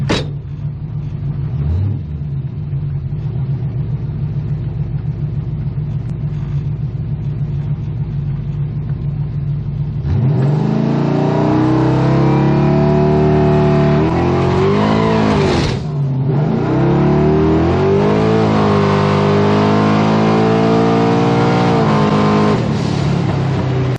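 Twin-turbo Monte Carlo SS drag car idling loudly, then roaring into hard revs on the trans brake at about ten seconds, with a dip and surge midway and sustained high-rpm engine noise to the end.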